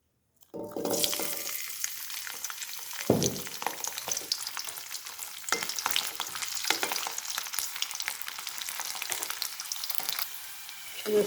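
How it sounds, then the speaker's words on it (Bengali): Garlic sizzling lightly in hot oil in a wok, a steady crackling fry that starts abruptly after a moment of silence, with occasional stirring clatter and a sharp burst partway through. "তারপরে এই রসুনটা আমি হালকা ভেজে নেব।"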